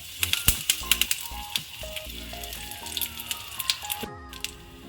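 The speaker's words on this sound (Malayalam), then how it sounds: "കടുക് പൊട്ടി തുടങ്ങി. ഇനി നമുക്ക് ഇതിലേക്ക് കുറച്ച് കറിവേപ്പില ഇട്ട് കൊടുക്കുന്നുണ്ട്." Mustard seeds and curry leaves sizzle in hot coconut oil at the start of a Kerala egg roast, giving close, rapid crackling and sharp pops over a steady hiss, with no voices.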